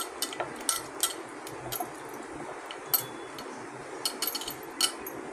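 Marinated bangda mackerel is mixed by hand in a bowl, giving faint, scattered clinks and light taps against the dish in a quiet room.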